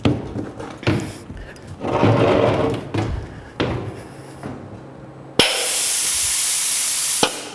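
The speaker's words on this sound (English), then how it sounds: "We're going to raise this cylinder up manually by activating that valve up on top for the face bore" Air valve on a lock bore machine activated to raise a pneumatic cylinder: several sharp clunks and bursts of air, ending in a loud, sustained hiss of released air cut off by a final thump.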